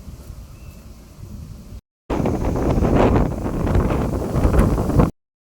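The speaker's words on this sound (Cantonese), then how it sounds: "今日好大風" Strong wind gusts on a hillside hiking trail in Hong Kong, roaring and buffeting the microphone, growing louder after a brief cut, with no talking.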